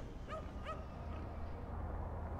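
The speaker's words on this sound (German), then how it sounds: "Oh ja, der Hund." Two quick dog yips or barks from the Cities: Skylines city-builder game, sharp and close together near the start, over a steady hum of game ambience.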